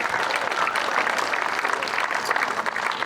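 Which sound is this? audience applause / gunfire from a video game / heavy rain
audience applause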